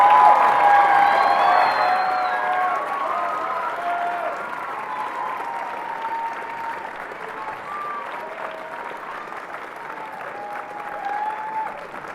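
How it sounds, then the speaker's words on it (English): Audience applause at a high school spring concert, a sustained wash of clapping that starts strong and slowly tapers over about twelve seconds, with some faint crowd murmur underneath. "A big round of applause for them,"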